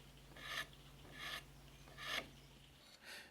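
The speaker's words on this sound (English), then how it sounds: "Now I just use the medium file and then the fine file to work the tip so that it's more or less 35 degrees." A medium then fine file rasping a 35-degree bevel onto the tip of a marking gauge, with four steady, close, evenly spaced strokes over a low background hum.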